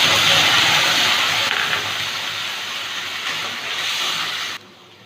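A spice paste made from ground onion, garlic and green chillies hitting hot oil already fried with dried red chillies, whole garam masala and cumin, giving a loud, dense, continuous sizzle that fades a little and drops away sharply near the end.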